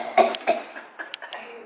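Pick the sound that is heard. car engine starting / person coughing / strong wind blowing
person coughing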